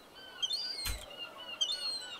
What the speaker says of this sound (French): Des mouettes! On les entend, mais on les voit pas.